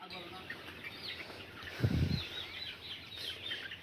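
28-day-old Sonali chickens in large trays cluck and chirp softly and steadily in the background, with a brief low thump of movement midway and faint voices nearby.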